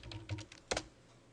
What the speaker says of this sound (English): So you type in explode and hit enter